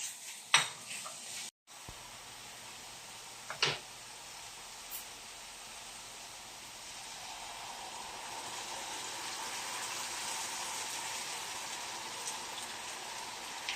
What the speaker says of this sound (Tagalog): Lagay na natin yung apple. Kakaramelize natin.